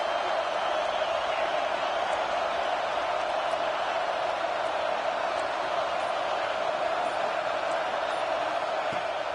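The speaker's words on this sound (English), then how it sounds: "Listen to this crowd just shaking the girders of this place, trying to help their defense." Stadium crowd roaring at a Tennessee football game, a continuous distant wash of massed voices cheering to support the defense, steady in level with no breaks.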